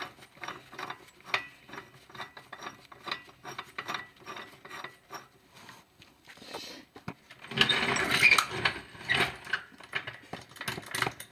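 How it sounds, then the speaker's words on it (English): A jack ratchets as it raises a 1976 Jeep CJ5, giving a long run of fairly quiet, rhythmic mechanical clicks and rasps that grow louder and busier toward the end. "Tighten the jack so it goes up."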